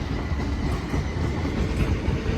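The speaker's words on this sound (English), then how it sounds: "Oh, that's 458 Shepperton in the old blue livery." A British Rail Class 458 electric train in old blue livery rolls through Clapham Junction with a continuous loud rumble and faint clickety-clack of wheels, close by and steady throughout.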